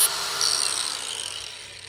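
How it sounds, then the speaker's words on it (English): A 34-inch length of metal flat stock is cut to 16 inches, a harsh bright grinding screech from a power tool that starts loud and fades slightly over about two seconds. "we're gonna cut this 33-inch, 34-inch piece of metal into 16"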